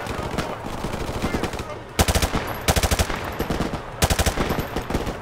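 Automatic machine-gun fire in Call of Duty: Modern Warfare Remastered, loud rapid bursts of shots in several clusters over a continuous bed of game noise, with faint talk underneath.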